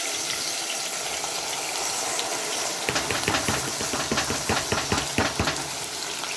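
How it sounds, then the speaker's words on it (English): Chopped onions tipped into very hot oil for Ghanaian shito chili sauce, setting off a sudden loud, crackling sizzle that keeps popping and spitting after a stretch of steady background hiss. "I'm going to go ahead and pour the onion"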